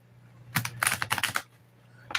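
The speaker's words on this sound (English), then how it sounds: "I'm going to shuffle the deck before I put it down" A tarot and oracle card deck is shuffled by hand, giving a quick burst of crisp, close riffling clicks that last under a second and then stop, followed by a faint last flick.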